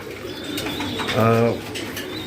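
Racing pigeons in a loft during hot weather give a short, clear coo in the middle, with softer bird chirps and faint human voice around it.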